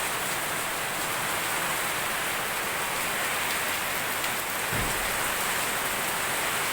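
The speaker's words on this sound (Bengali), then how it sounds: "বেশ ভালোই বৃষ্টি হচ্ছে।" Heavy rain pours down in a dense, unbroken roar that stays loud and even throughout, with one brief low thump near the end.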